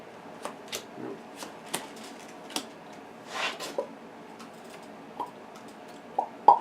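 A person imitates a card shuffler with the mouth, producing quiet scattered clicks and short riffling bursts with small gaps between them, like a deck being shuffled for a card game.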